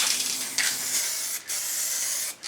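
Plastidip or frost wrap sprayed from an aerosol can in a garage, building a wet coat: a loud, steady hiss in close bursts, broken by two short pauses, with no voices.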